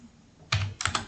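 Close computer keyboard keystrokes as a file name is typed: a single clack, a short pause, then a quick cluster of three or four taps, with no voices.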